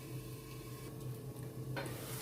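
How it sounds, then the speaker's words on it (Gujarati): Vegetables and spices for Gujarati rajwadi khichdi cook in a covered pot over low gas, giving a soft, steady sizzle with faint stirring scrapes and no voices. "હવે ઢાંકણ ઢાંકી અને સરસ મસાલો આપણે બધા શાકભાજી ચડે ત્યાં સુધી ચડવા દઈશું"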